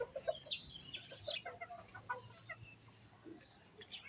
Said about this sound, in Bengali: এগুলো হচ্ছে বাহারা মুরগি